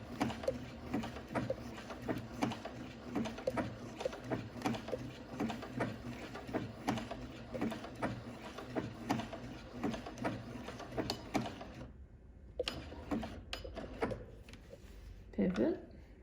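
A sewing machine whirs and clicks mechanically as it stitches appliqué pieces with buttonhole and straight stitches, the steady motor and needle noise running under nearby talking and pausing briefly toward the end.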